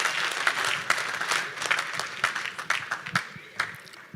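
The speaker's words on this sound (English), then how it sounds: "So big round of applause to our teams" Audience at the Heartland premiere applauding the production teams, scattered individual claps growing sparser and fading over about four seconds, moderately distant with some voices underneath.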